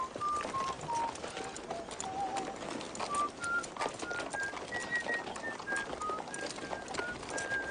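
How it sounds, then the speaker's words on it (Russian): A man whistles a song as a wavering melodic line of sustained notes, with a rustling, clopping outdoor background suggesting horses in a 1993 western film. "Прекрати свистеть."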